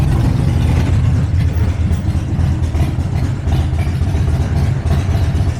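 A loud Harley motorcycle engine idles close by after a test ride, a deep, steady, lumpy rumble with an even pulsing throb and no talk over it.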